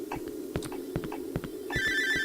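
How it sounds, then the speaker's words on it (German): A telephone rings in the horror video game Cry of Fear: quiet clicks and thuds give way to a bright electronic ring that starts partway through and holds steadily to the end. "Wer stört? Das ist mein Telefon."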